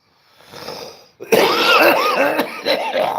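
A man coughs and clears his throat during a live stream, a soft rasp followed by a burst of harsh, close, loud hacking coughs and throat clearing.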